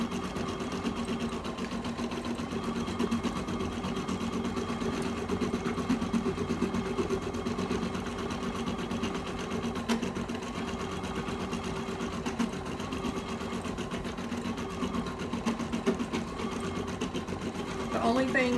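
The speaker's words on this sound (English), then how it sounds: "I'll talk about that while the machine is stitching" Embroidery sewing machine stitching fabric with a steady, continuous mechanical whir and rapid needle rhythm, close and even throughout, with a voice talking over it.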